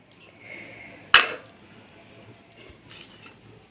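Bowls being oiled by hand before steaming an onion-stalk and egg dish, heard as one sharp clink of a bowl set down, then quiet handling and a few faint ringing taps later.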